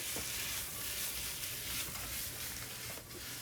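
An egg omelet for a burrito sizzles loudly and steadily in a pan, with a few light scrapes and taps of stirring over the constant frying hiss.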